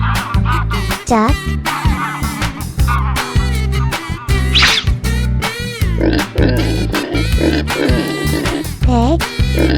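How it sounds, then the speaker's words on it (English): Cartoon pig grunting and oinking in a playful animal animation, several short bursts over a bouncy looping music bed with other cartoon noises mixed in. "pig"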